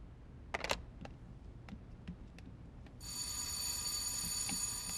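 A couple of faint clicks, then an electronic doorbell starts ringing loudly and keeps sounding continuously.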